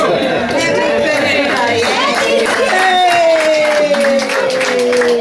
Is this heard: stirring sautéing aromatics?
no